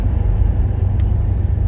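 A junkyard National car rolls at around 45 mph, its heavy low road rumble and engine drone steady and close, without any distinct braking squeal.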